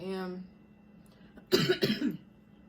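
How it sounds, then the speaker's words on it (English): A short voice sound fades out, then a close, harsh burst of two or three coughs from a person with a lingering cough after illness follows in quick succession. "I still have a lingering cough, so I'm probably gonna cough during the reading"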